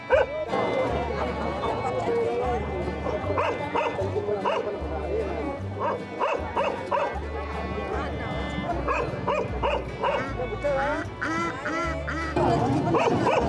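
Dogs on chains bark at a busy border market in Si Ma Cai, Lao Cai, where they are sold as pets, with barks recurring through steady crowd chatter and market bustle.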